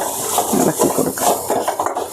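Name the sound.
stirring mango curry in a pan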